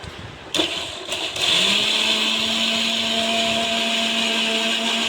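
A mixer grinder whirs up to speed after a few short clicks and bursts, then runs in a loud steady whine while blending soaked chana dal into a smooth paste for payasam.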